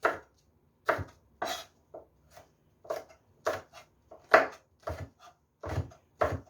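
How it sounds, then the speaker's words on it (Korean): Knife chopping green and red chili peppers diagonally into long slices on a cutting board, about a dozen crisp, evenly spaced cuts close up, with no talking. "이거는 어슷어슷 길쭉하게 어슷어슷 썰어주세요."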